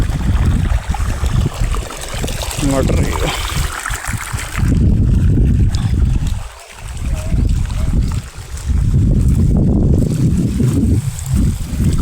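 Irrigation water rushes steadily into a sugarcane field outdoors, a continuous broadband flow mixed with wind buffeting on the microphone, while someone speaks briefly over it.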